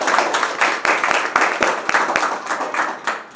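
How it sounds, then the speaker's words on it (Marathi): A crowd of listeners at a Ram Krishna Hari devotional singing session with children claps loudly and rapidly, a close, dense rattle of hands with a few sharp individual claps standing out. "सगळ्यांनी वाजवा एकदा जोरदार टाळ्या वाजवा."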